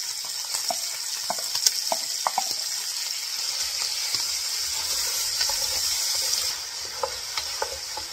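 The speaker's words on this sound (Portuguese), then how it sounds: "Agora vou pôr o alho e cebola picadinho." Chopped garlic and onion frying in a pot for feijoada, a loud continuous sizzle and hiss with scattered clicks of stirring, the sizzle easing slightly near the end.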